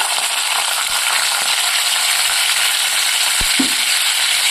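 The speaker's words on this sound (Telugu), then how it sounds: "అవి బాగా వేడెక్కిన తర్వాత కట్ చేసి పెట్టుకున్న అల్లం ముక్కలు వేసి" Chopped ginger pieces frying in hot oil with tempering spices for a restaurant-style ginger chutney, a loud, steady, close sizzle with a brief metallic clink partway through.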